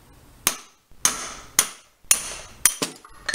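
A big hammer strikes a socket and extension to drive out a Honda Forza wheel bearing, six sharp metallic blows at roughly half-second intervals, close and loud.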